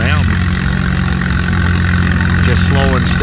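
Antique International Harvester M tractor at a tractor pull, its engine a loud, steady, close low rumble that runs throughout with voices speaking over it.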